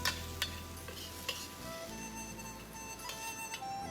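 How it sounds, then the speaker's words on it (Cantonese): Iberian pork pieces frying in a little oil in a pan with onion, a steady close sizzle with a few sharp clicks of a utensil stirring and scraping. "煎得爆香啲豬肉佢"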